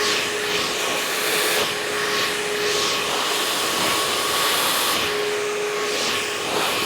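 A hair dryer blows steadily and loudly at close range while styling hair back with a round brush, its continuous whooshing hiss rising and dipping slightly as the airflow moves across the hair.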